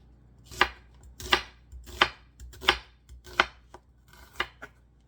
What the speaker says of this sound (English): Once you get to here, turn it and slice down some more.